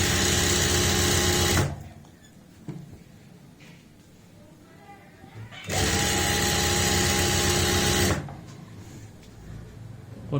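An electric sewing machine stitches a dhoti salwar in two loud whirring bursts, one at the start and another midway, with quieter handling sounds between them.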